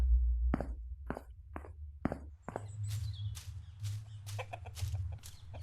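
Chickens cluck inside a chicken shed in a quick, uneven series of sharp calls, fairly close. Soft shuffling footsteps and rustling sound underneath.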